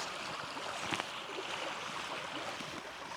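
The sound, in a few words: flowing water of a small stream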